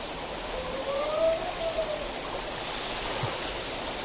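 A waterfall near Gelendzhik pours and splashes onto a bather beneath it, making a continuous loud rush of falling water with a faint voice briefly rising above the roar.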